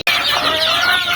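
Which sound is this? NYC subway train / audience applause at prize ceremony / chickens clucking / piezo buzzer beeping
chickens clucking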